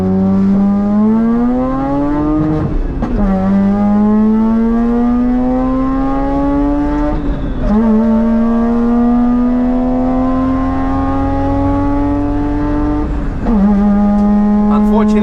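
A tuned Mazda RX-8 rotary engine revs hard toward 10,000 RPM on the Nürburgring, its loud whining note climbing steadily through three long gear pulls with brief dips at each shift.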